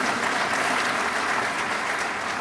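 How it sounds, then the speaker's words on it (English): Steady, dense applause from a large audience at a university congregation ceremony, welcoming university officers, continuing evenly throughout. "Clap for them, please."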